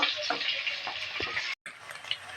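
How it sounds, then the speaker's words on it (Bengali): Chopped garlic stir-fried for fried rice, a continuous bright sizzle in the pan with a few soft stirring taps and a brief dropout near the end. "রসুন কুচি দিয়ে একটু নেড়ে নেব এক মিনিটের মতো"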